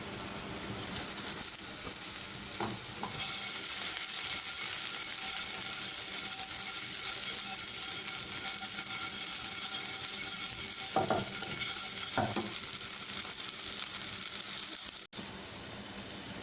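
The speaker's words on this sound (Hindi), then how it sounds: "अब इसमें 1 बाय 1 हम कोफ्ते ऐड करेंगे और इसको शैलो फ्राई कर लेंगे।" Beef koftas shallow fry one by one in hot oil in a pan, a loud continuous sizzle with occasional scraping stirs and a sharp click near the end, no talking.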